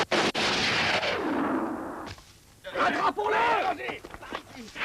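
Film gunfire during a chase in the 1985 action movie Jaka Sembung & Bergola Ijo, heavy booming shots and bursts mixed with shouting voices and dramatic soundtrack, loud and dense throughout.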